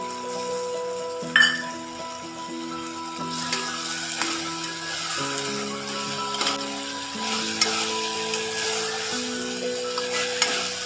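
Crushed ginger and garlic frying in a pan for mutton kulambu, a steady close sizzle with occasional stirring clinks of a spoon against the pot, alongside a sustained tonal hum.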